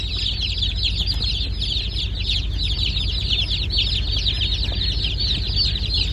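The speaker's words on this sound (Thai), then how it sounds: "ถ่ายบรรยากาศการหากินของฝูงเป็ดนะครับ" A dense flock of two-month-old laying ducks chattering and clucking continuously while foraging below Srinagarind Dam, steady and fairly close, over a low rumbling background.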